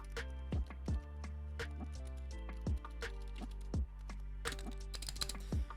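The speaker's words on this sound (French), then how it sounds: "c'est le clavier, l'un des claviers les plus silencieux que j'ai pu acquérir" Soft keystrokes on a Razer Huntsman V2 silent gaming keyboard, close and quiet, in an irregular pattern of muted taps and occasional heavier presses, over a steady low background hum.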